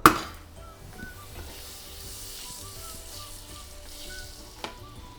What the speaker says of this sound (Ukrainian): Будемо смажити на міксі вершкового і оливкової олії.